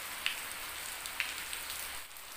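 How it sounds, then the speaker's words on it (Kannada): Light morning rain falling steadily, a soft, even hiss of drops on surfaces with a few faint isolated drips, no voices. "ನೋಡಿ ಬೆಳಿಗ್ಗೆ ಮಳೆ"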